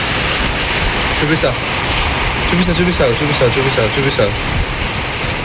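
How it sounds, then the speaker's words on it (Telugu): Heavy rain falls in a steady, dense hiss that runs unbroken through the whole stretch while a person talks over it. "ఇగో వర్షం మాత్రం పొట్టు పడుతుంది, తగ్గుతుంది పెరుగుతుంది."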